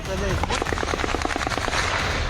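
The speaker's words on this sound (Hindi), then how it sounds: "पाकिस्तानी सुरक्षा बलों ने निहत्थे प्रदर्शनकारियों पर बिना किसी उकसावे के गोलियां चला दी" Rapid automatic gunfire from Pakistani security forces firing on protesters in Pakistan-occupied Kashmir, a regular burst of about a dozen sharp shots in quick rhythm, loud and close, with faint voices beneath.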